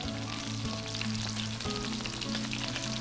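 Onions and garlic fry steadily in a hot pan, a dense, continuous sizzle close up with faint stirring clicks and no talking.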